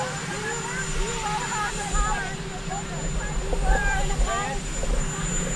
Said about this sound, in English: you have a helicopter roaring in the background.